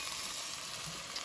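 Diced tomatoes and lemon juice hitting a hot pan for a Brazilian shrimp moqueca, a steady, faint hiss of sizzling and bubbling with no voices, brief and even.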